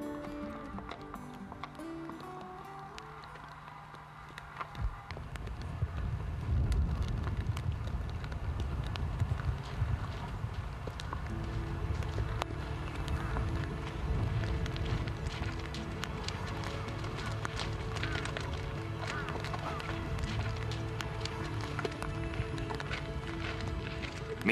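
Thoroughbred foal moving on a breeding farm: soft irregular hoof thuds and shuffling over a low, steady outdoor rumble, moderately distant, with no clear talk.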